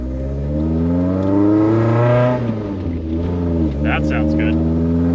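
A Fiat X1/9 engine, freshly retimed and fitted with open headers, revs up and settles in a rising then falling steady drone with strong harmonics, close and loud, while someone talks briefly over it.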